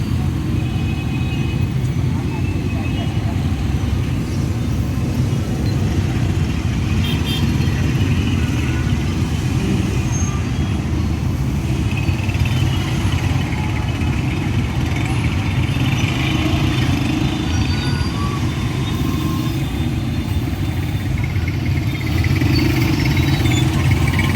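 Heavy road traffic heard from inside a moving auto rickshaw, with a continuous loud engine drone and the rumble of surrounding vehicles.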